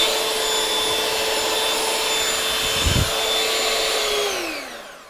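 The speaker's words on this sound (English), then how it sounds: "Pretty much what you would expect out of a hand mixer." A cheap hand mixer runs with its beaters fitted, giving a steady, fairly loud motor whine with a brief low thump near the middle, then winding down and fading at the end.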